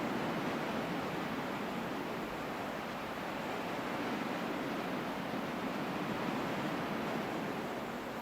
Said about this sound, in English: you hear those waves